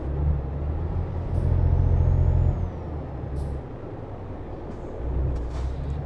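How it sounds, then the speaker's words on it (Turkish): A heavy truck engine rumbles low and steady in the video game Euro Truck Simulator 2, with a few short pneumatic hisses and clicks from the brake pedal breaking through. "Duyabiliyorsunuz fren pedalı sesleri gibi."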